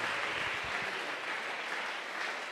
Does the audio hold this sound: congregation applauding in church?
yes